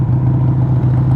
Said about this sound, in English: this thing's idling high today for some reason